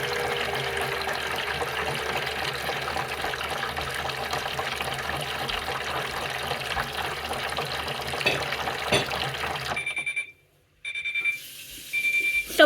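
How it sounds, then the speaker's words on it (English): A Miele W1 toy washing machine on its spin rinse with water inside, giving a steady whirring churn and sloshing that runs continuously, then cuts out abruptly near the end before a few brief faint mechanical sounds. "Look at that awesome spin rinse."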